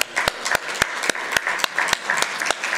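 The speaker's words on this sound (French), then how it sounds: "je pense qu'on peut les applaudir" Applause from an audience at a French-speaking Drupal association Q&A session, steady dense clapping with a few louder individual claps standing out over about three seconds, fairly close.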